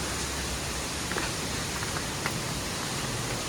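Rain falls steadily at Curug Cipondok waterfall in Ciater, a dense, even hiss of drops with no pauses, fairly close, and a few faint scattered taps standing out from the wash.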